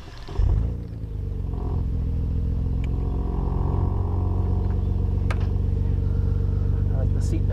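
A 1991 Nissan Skyline GT-R with the ATTESA all-wheel-drive system starts up with a sharp burst, then settles into a steady, close rumbling idle heard from inside, with a few small clicks and knocks.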